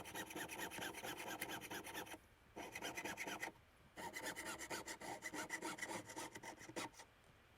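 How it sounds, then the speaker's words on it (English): A jeweler's saw cuts excess silver from a band ring blank in quick, rhythmic rasping strokes, close and clear, broken by two short pauses before the sawing resumes. "I'm going to use my saw to carefully cut the excess metal away."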